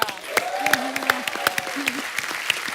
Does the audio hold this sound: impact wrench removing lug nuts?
no